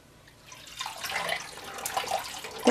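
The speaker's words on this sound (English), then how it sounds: "we will rinse this until the water runs clear" Running tap water pours over silk hankies dyed with KoolAid as they are rinsed in a sink, a steady splashing rush that swells and grows louder partway through, with no voices.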